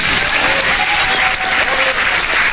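Steady, dense applause from a church congregation, loud and continuous for the whole stretch with no voices standing out.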